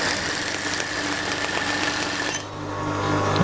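A sewing machine runs steadily while stitching a smocked dress, giving a continuous close mechanical hum and whir with a slight change in tone partway through.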